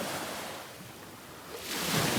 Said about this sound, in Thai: อันนี้ไม่มีเรือคลื่นก็จะแบบนี้